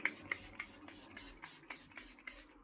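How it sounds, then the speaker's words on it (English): Makeup setting spray misted from a pump bottle in a quick series of about ten short, soft hissing bursts, close and faint, with no talking. "But just put on some setting spray."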